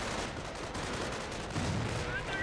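Gunfire in the World War II strategy game Company of Heroes, a dense burst of overlapping rifle and machine-gun shots amid steady battle noise, loud and continuous for the whole stretch.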